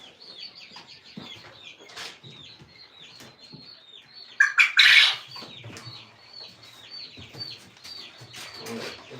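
Chickens cluck and call steadily outside a room, with a sudden loud burst of squawking and wing flapping partway through before the flock settles back to continuous background clucking.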